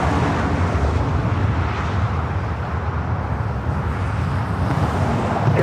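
An Air France airliner takes off from the north side at LAX, producing a loud, steady, broadband jet roar that stays close and continuous throughout, with no voices over it.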